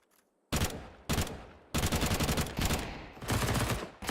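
Rifle sprays and short bursts of gunfire rattle through a Counter-Strike match, with loud, dense automatic fire coming in several long strings broken by brief gaps.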